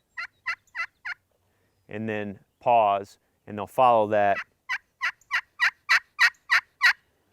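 A hand call imitates a turkey hen yelping in two short series of sharp, evenly spaced yelps that grow louder toward the end, with someone speaking briefly between the series.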